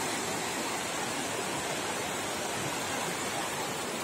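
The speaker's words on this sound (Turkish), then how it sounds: "böyle de akan güzel şırıl şırıl deresiyle burası da böyle" A babbling creek flows near a campsite and picnic area at Uzungöl in Çaykara, Trabzon, giving a steady, full rush of water that stays even and close throughout with no pauses or voices.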